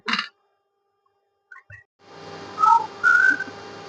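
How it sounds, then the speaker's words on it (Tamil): Pressure cooker whistling on the stove while lamb trotters stew cooks, after a few brief clicks a rising hiss builds into a loud, sustained high whistle close by, with no talk. "இப்போ இத வந்து விசில் விட்டுறலாம்."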